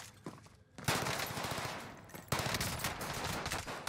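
Welgun submachine gun fire in Call of Duty Warzone, loud close bursts of rapid automatic shots with a brief pause before a sustained second volley.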